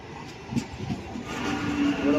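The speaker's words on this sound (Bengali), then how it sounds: "ট্রেন এসে গেছে এবার আমরা ট্রেনে চাপবো" A train pulling in at a station platform, a low rumble building toward the end with a sustained squeal of wheels or brakes, while a person speaks over it.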